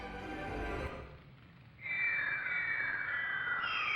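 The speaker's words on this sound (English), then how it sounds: "An artificial raven recording." Artificial raven calls from a video game: a harsh, close caw in the first second, a short lull, then a long bright drawn-out call that holds steady to the end.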